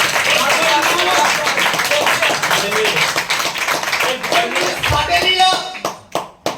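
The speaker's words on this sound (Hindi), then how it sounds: "जोरदार ताली लगाइए।" A church congregation claps loudly during a Christmas Eve sermon, dense rhythmic clapping that gradually thins into a few scattered claps toward the end, with voices underneath.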